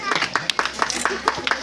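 Villagers clap together at a farewell ceremony for a departing teacher in Vanjhariyapura, Kheda, producing a steady run of close, sharp hand claps with voices murmuring underneath.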